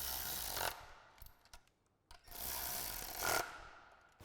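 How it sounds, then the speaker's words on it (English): Ratchet with a 10mm socket tightening bolts on a 2015-2017 F-150 replacement front bumper, two bursts of close, loud, rasping broadband clicking separated by quieter metallic handling sounds. "you just grab your ratchet with a 10mm socket and tighten them down"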